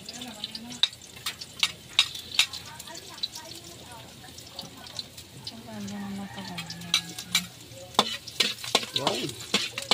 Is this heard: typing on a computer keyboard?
no